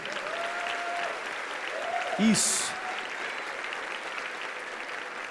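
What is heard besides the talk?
church congregation applauding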